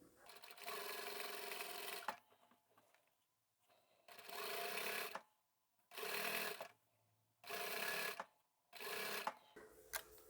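Sewing machine stitching two pieces of tape toward an end stop, four or five short bursts of quick mechanical stitching separated by quiet pauses, close and moderately loud.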